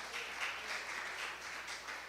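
Congregation applauding during an evangelical deliverance service in church, heard as a steady, fairly faint wash of many hands clapping together from a distance, with no clear talk over it.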